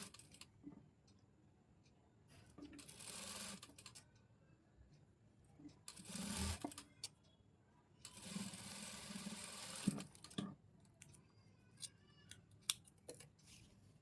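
A sewing machine stitches double piping onto a blouse around a curved edge, running in three short bursts of rapid whirring separated by quiet pauses with small clicks and handling sounds.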